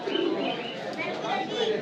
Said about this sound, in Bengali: একটা ডিপ ব্লু কবুতর